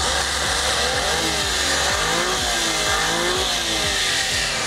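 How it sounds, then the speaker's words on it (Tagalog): A mini van's 660cc K6 engine with a four-speed automatic runs loudly and close, its steady drone rising and falling as it revs, with no talk over it. "Yung makina natin is K6 engine. 660cc, 64 horsepower, 4-speed automatic transmission."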